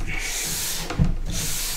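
A cork is rubbed hard over a waxed snowboard base, making a close, loud, continuous friction rasp that swells with each back-and-forth stroke.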